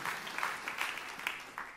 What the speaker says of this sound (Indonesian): Yang percaya tepuk tangan yang meriah untuk kemuliaan Tuhan.